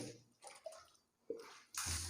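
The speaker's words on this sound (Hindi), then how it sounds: "3 बार आपको बाएं कंधे पे पानी बहाना है" Water is poured over a bather's body, arriving in three separate splashing gushes with quiet gaps between them, the last one loudest and fullest.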